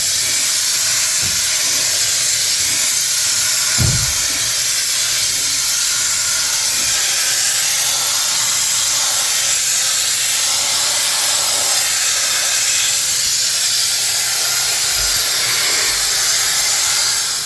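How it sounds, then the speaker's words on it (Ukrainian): Pressurized water spray flushing the air conditioner radiator of a Subaru Outback, a loud, steady, close hiss that runs unbroken, with a brief low thump partway through. "Ось промиваємо радіатор кондиціонера."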